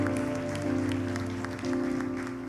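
A church congregation applauds as a continuous wash of clapping, moderately loud, while a sustained organ or keyboard chord plays underneath.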